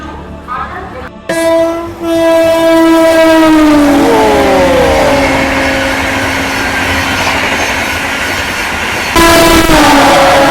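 Indian express trains passing on the main line near the Vande Bharat Express: a loud, sustained horn blares close by with a falling pitch as it passes, then a second horn blast follows over steady rumbling rail noise.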